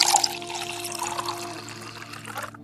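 Water pours and trickles for a beggar in a Hindi cartoon moral story, a steady splashing stream that runs for a couple of seconds with a light liquid shimmer before cutting off.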